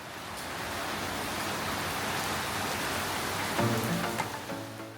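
Heavy rain pours down in a steady, dense hiss that fills the whole stretch at an even volume, with a few faint knocks near the end.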